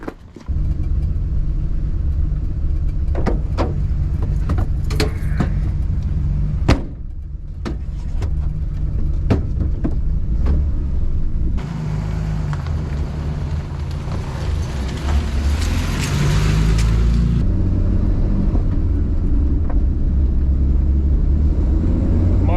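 A 1954 Plymouth Savoy drives steadily and accelerates, with a continuous loud engine rumble and road noise heard from inside. Brief clicks and knocks occur near the start, and the engine note rises further along.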